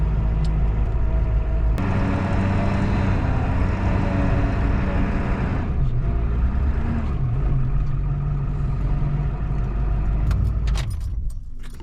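A truck's power steering pump whines over its running engine as the truck swings around to park on grass, a steady mechanical tone holding close and continuous throughout.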